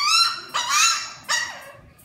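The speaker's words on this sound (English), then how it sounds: "they're playing, they're acting like puppies." Puppies playing in a play yard give a few high, whiny yips and barks in quick bursts, close and fairly loud.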